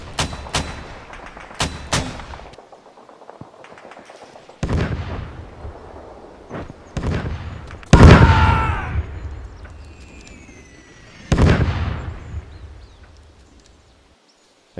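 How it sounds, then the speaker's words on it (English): Mortar rounds in a toy army stop-motion battle scene, heard as a series of sharp, loud launch thumps and booming explosions spaced a few seconds apart. One big blast rumbles on longer before fading, and no one speaks. "mortars, fire them rounds into the ruins on the north side"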